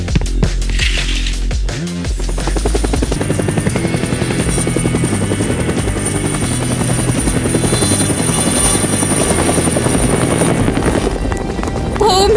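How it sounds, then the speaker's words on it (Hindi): A helicopter flies close by, its rotor chopping out a loud, rapid, continuous thrum that dominates from just after a brief opening sound to the end. "हेलीकॉप्टर।"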